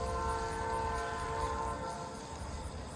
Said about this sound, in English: And yes, that is a train.